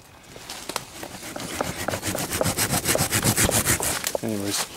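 Rapid rhythmic sawing or rasping against wood as vines are cut from trees in a forest, steady back-and-forth strokes up close, ending with a brief hum.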